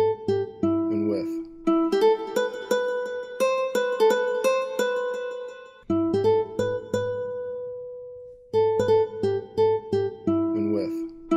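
Electric guitar playing a melodic phrase through a chain of free plugin effects, close and clear, with picked notes ringing into sustained tones, a brief gap, then the phrase repeating with a fuller tail.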